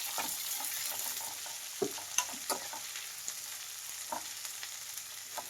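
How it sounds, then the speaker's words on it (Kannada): Three thickly sliced onions sizzle in hot oil in a pan, with soft scraping and clicking from a spoon stirring them at irregular intervals, close and fairly quiet with no talk. "ಇದಷ್ಟು ಫ್ರೈ ಮಾಡಿ."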